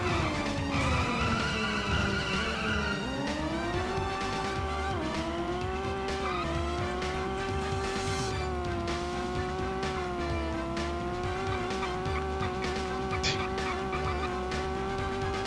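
Racing cars in the PlayStation game The Race roar continuously with revving, pitch-shifting engines and screeching tires, steady and loud throughout with no talking.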